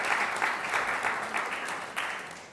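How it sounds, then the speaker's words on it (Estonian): Morning audience applauding guests seated in the back row, steady mid-distance clapping from a modest crowd lasting a couple of seconds. "Anname üks suur aplaus külalistele seal tagareas."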